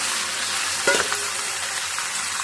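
Potatoes and cauliflower fry together in a pan, a steady close hiss of sizzling oil with a brief stirring clatter near the middle.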